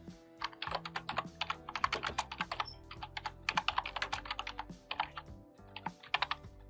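Rapid typing on a computer keyboard, close and crisp, with clusters of clicking keystrokes in uneven bursts and short pauses, no voices.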